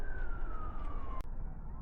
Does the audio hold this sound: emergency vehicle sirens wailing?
yes